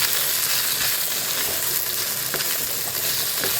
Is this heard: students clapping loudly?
no